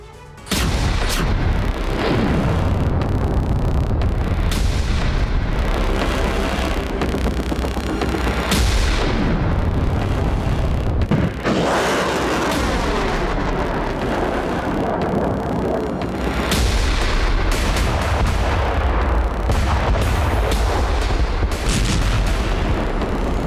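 Several North Korean missiles are fired together at dawn, heard as a loud run of booming blasts and roaring bursts that follow one another closely over a sustained rumble, with no talk.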